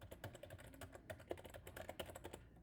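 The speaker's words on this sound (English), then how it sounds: "So as I type in a few fake names here" Rapid, uneven clatter of keys on a computer keyboard as names are entered, close and fairly quiet, with no talking.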